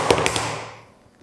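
A heavy hammer drops onto a vinyl floor panel with a sharp impact and a short bounce, then a ringing decay fading out over about a second, close and fairly loud with no talk.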